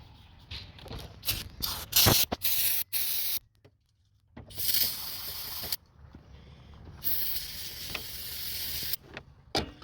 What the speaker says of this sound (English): You can also use this brake cleaner, brake and parts cleaner.